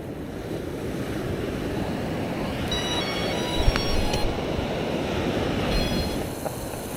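Surf rolls steadily onto a beach, a continuous broad wash of breaking waves with wind noise buffeting the microphone throughout.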